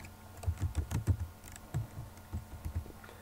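A Telegram username being entered on a computer keyboard, a run of close, distinct key clicks in quick uneven bursts with short pauses between them.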